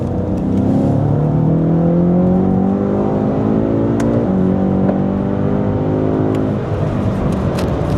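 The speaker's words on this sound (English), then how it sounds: "So we're just gonna run through the taller gears, 4 and 5th, wide open throttle" A rebuilt 1000 hp turbocharged BMW M5 engine pulls hard at wide open throttle through fourth and fifth gear, a loud, close, rising roar with climbing tones, then a brief dip at a gear change before rising again.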